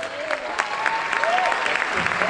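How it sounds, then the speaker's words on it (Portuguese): A crowd at the Curitiba Social Mix 2016 event claps for three award nominees, brisk scattered applause at moderate volume with voices and cheering mixed in throughout. "Uma salva de palmas aos três"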